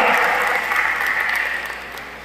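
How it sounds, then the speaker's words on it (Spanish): Church congregation giving the Lord a strong round of applause, many hands clapping in a full, steady burst that gradually tapers off, with faint voices underneath. "Yo no sé si usted le puede dar un fuerte aplauso al Señor"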